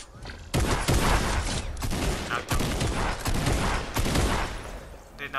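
Rapid bursts of gunfire from a firefight in the video game Fortnite, loud, dense and overlapping, repeating in clusters across the whole stretch with little pause.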